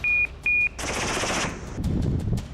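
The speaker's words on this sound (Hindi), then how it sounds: "वीडियो में अचानक से गोली चलने की आवाज आती है" Gunfire from soldiers aboard a helicopter: a loud, dense burst of automatic fire lasting under a second, preceded by two short tonal beeps and followed by rumbling noise.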